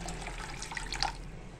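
A little water poured from a vessel into a pot of buttermilk kadhi curry, a brief soft splashing trickle heard close in a quiet kitchen.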